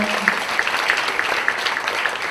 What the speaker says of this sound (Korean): 하나님 앞에 감사의 박수 올려드리겠습니다.